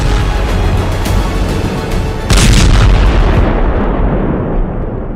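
Israeli airstrike bombardment in Lebanon produces a loud, rumbling roar, with a heavy explosive blast bursting out just before the midpoint and then slowly fading.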